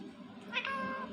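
A ringneck parrot imitating a cat, giving a single clear, close meow-like call that rises and holds briefly, alone without speech.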